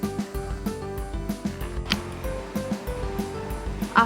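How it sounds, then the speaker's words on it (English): A wet grinder churning soaked poha and rice into dosa batter runs with a steady mechanical rumble and a regular clanking, ratcheting rhythm, close and alone without any talk. "Let's mix this grinded poha to the next batch of rice and grind them all together"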